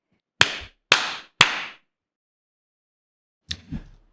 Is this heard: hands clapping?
yes